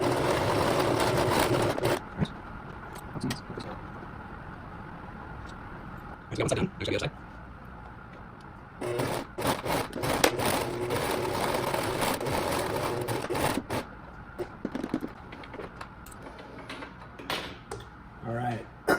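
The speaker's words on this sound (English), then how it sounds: "All right, now we're gonna sew it up." A sewing machine runs in bursts, stitching together a PPE face mask with an interchangeable filter, its steady mechanical whir starting and stopping close up while a person talks in between.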